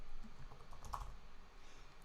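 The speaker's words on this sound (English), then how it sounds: "I'm just typing this all out" Faint, quick clicking of keys as someone types on a computer keyboard, a steady stream of small taps with no voices.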